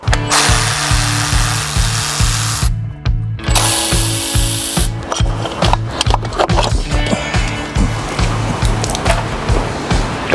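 Tools working to remove the transmission oil cooler from a VW Golf: a rapid, rhythmic ratcheting or power-tool chatter with brief pauses, close and loud, without talk.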